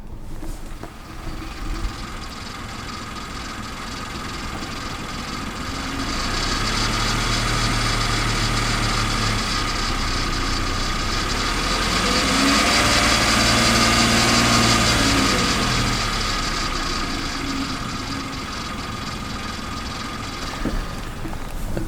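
Kia car engine with about 14,456 miles idling with a timing chain rattle, a steady close mechanical clatter and hum that swells slightly in the middle, with no talking.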